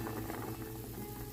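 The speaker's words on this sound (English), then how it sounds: "Only boil 1 minute." Beef meatballs and beef rolls simmer in a pot of broth for Vietnamese rice noodles, making a low, continuous bubbling and burbling close by with no voices.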